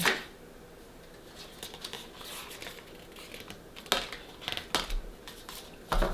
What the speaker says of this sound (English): Too many cards again. These ones are hard to shuffle.